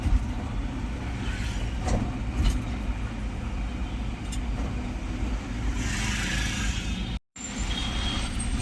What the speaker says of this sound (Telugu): మెల్లగా మూవ్ అవుతున్నాయి బండ్లు అయితే ఎక్కువ ట్రాఫిక్ అయితే ఎక్కువ అయిపోయింది